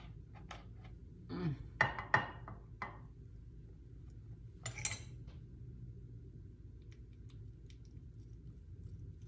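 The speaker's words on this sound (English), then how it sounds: "you just want to place it down on your dish" A lasagna roll-up is set down in a baking dish, a few close clinks and light clatters of dish and utensil in a quiet kitchen, then mostly low hum with faint ticks.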